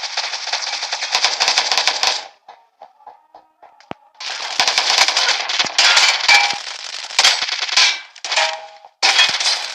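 Rapid automatic gunfire from PUBG New State: dense bursts of shots broken by short pauses, a few single cracks and metallic clangs in between, loud and close.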